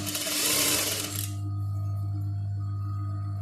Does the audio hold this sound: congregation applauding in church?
no